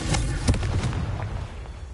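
A Confringo fire spell bursts in the Hogwarts Legacy video game, giving a few quick, loud blasts that fade into a rumbling tail.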